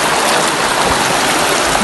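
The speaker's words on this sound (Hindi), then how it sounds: "पानी बहुत ज्यादा तेज" Fast-flowing flood water rushing loudly and continuously, a dense broadband roar from a swollen torrent during severe flooding in Pakistan.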